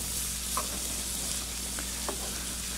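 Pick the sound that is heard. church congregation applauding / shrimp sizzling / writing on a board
shrimp sizzling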